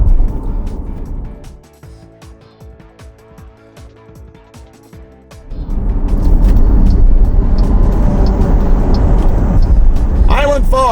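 A car leaves Interstate 95 at the Island Falls exit in northern Maine, its road noise quieter for a stretch, then rising into a loud, steady rumble, with some talking mixed in.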